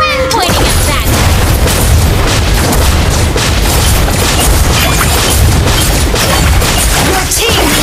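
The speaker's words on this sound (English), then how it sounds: "Your team destroyed the turret." A mobile game match erupts with a turret being destroyed: a loud, dense booming explosion dominates the whole stretch, layered with clattering game effects and an announcer voice.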